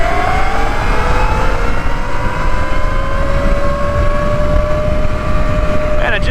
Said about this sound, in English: Time for the top speed run on the Nucular bike.